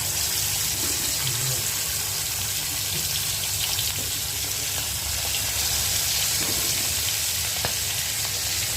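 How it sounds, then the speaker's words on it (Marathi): Pomfret fish fries in hot oil with a steady, dense sizzle that runs unbroken from start to finish, loud and close, with no talking over it. "चला बघा पापलेट टाकते तेलामध्ये."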